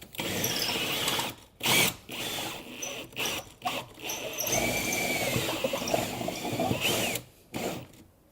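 A power drill bores a hole through flooring during a floor install in a workshop. It runs in several close, loud bursts separated by short pauses.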